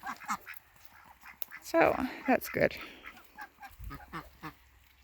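Ducks on a farm on a rainy day give a few scattered quacks and honks, faint and intermittent, while a person talks briefly nearby.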